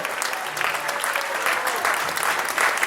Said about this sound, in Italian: un applauso grande fatevelo voi